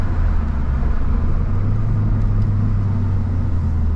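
Mazda 3 MPS with a 260 hp 2.3 L engine under hard acceleration, a steady loud low rumble heard from inside the cabin, continuous and without talk.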